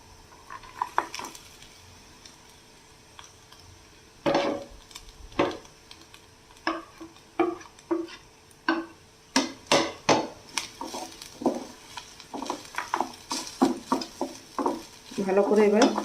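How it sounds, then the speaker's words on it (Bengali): A spoon clatters and scrapes in a pan as fried peanuts and eggs are mixed into puffed rice pulao, with a quiet start, then irregular knocks building into a busier run of stirring near the end. "ভালো করে এবার মিশিয়ে দিচ্ছি"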